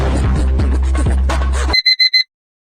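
A drawing timer's electronic alarm beeps four times in a quick, evenly spaced burst at the start of a ten-second sketch, loud and clear after noisy background sound cuts out, then silence.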